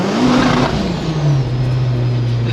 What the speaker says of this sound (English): This is like the most quiet exhaust system you could ever buy.